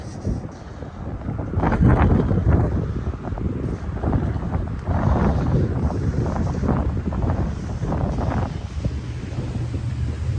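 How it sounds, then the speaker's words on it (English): Strong, sharp wind on a December walk through downtown Regina roars and buffets the microphone in a continuous rumbling gust that swells and eases throughout, with no voices. "The wind's fairly sharp."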